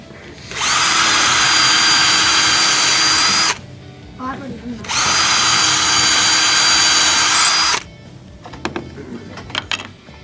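A power drill bores holes into a wooden jewellery box in two loud, sustained bursts of high whining motor noise, separated by short pauses with handling clatter and faint talk.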